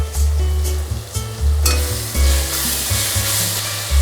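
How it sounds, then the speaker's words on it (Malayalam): Tomato masala with turmeric powder frying in a pan while a spoon stirs it in repeated strokes, a loud close sizzle swelling and easing with each stroke. "ഒന്ന് ഇളക്കി കൊടുക്കാം."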